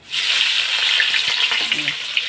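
Chopped onion and green chili frying in hot oil with nigella seeds hiss in a loud, close, continuous sizzle, with occasional crackles and stirring scrapes.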